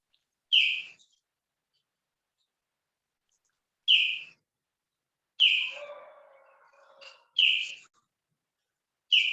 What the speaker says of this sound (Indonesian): Burung siapa tuh?